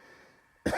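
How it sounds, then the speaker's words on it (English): One sudden, sharp cough bursts out close to the microphone after a moment of quiet room hum. "Yo, this cough is crazy"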